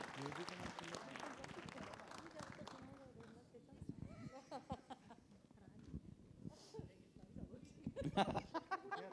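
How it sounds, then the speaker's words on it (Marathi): A crowd claps in steady applause at a Marathi film trailer launch event, fading and then swelling again near the end, with voices speaking over it. "एकदा जोरदार टाळ्या त्यांच्यासाठी."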